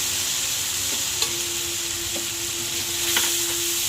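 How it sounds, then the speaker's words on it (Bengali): Onions frying in a pan with a spice paste of ginger-cumin paste, coriander, chili and turmeric powders and salt just added, a steady loud hiss and sizzle with a few faint stirring knocks. "সেটা কিন্তু আমি পেঁয়াজের মধ্যে দিয়ে দিলাম"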